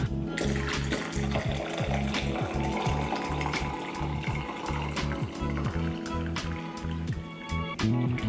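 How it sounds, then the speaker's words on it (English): Mixed tea poured into a cup, a steady liquid stream running continuously for several seconds, fairly close and full-sounding, with no talking over it. "Let's pour it into the cup."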